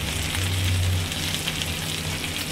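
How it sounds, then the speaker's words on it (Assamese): Potatoes and carrots fry in a pan with a steady, close sizzle that runs unbroken from start to finish, with no talking. "এতিয়া আলু আৰু গাজৰ ভাজি আছোঁ।"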